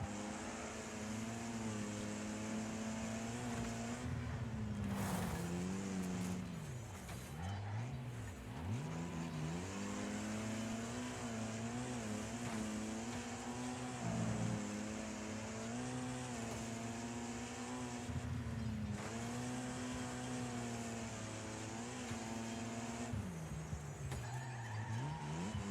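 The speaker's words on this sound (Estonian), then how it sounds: "Miks see auto libiseb siin nüüd nii palju?" Race car in the video game Wreckfest sliding and skidding on track, with steady engine drone wavering in pitch and tyre squeal throughout, loud and continuous without talk.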